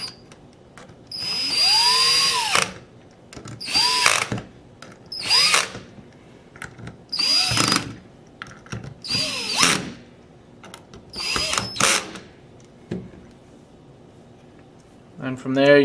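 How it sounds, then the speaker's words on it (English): Power driver bursts snug down the receiver bolts on a Tippmann Carver One paintball marker, several short whirring runs of a few seconds each separated by pauses. "you can go ahead and tighten down all your receiver bolts"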